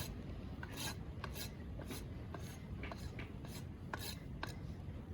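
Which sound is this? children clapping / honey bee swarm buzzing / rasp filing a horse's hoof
rasp filing a horse's hoof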